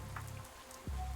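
Rain falls steadily in the video game Pathologic 3, a faint, soft patter with a low ambient hum beneath it.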